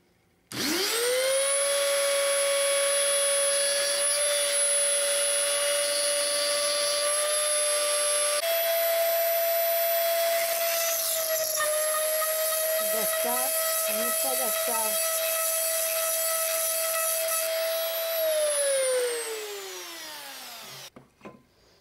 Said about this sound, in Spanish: Entonces ahora vamos a hacerle los agujeros. Apoyamos la concha en la madera.